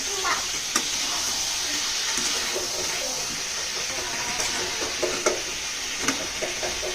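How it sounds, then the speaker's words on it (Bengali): Spice masala frying in oil for a tomato rohu fish curry, a steady sizzling hiss with scattered stirring scrapes and taps, fairly close, with no talking. "এর মধ্যে অনেকটা তেল ছেড়েছে, তো সেই তেলই মশলাটা কষা হয়ে যাবে।"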